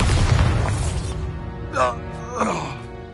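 A Bombarda spell blast from Hogwarts Legacy bursts out as a loud, low boom with a rumbling tail that fades within about a second, followed by brief vocal sounds.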